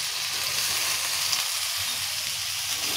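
Potato, carrot and pumpkin fry in a pan with a steady, close hiss of sizzling oil that holds at an even level throughout, with no talking.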